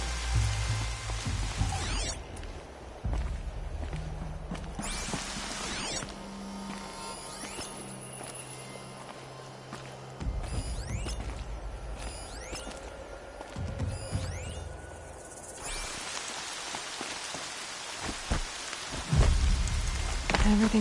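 Rain and thunder in the video game Horizon Zero Dawn: steady heavy rainfall pattering on surfaces throughout, broken by several deep rolling thunder rumbles and cracks, with a low hum beneath and no speech.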